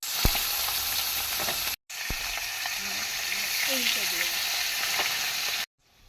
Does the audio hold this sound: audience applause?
no